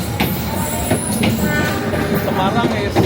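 A train on the Java line rolls past in Jakarta, a loud, close rumble with metallic clatters and high wheel squeals, and a voice speaks briefly over it.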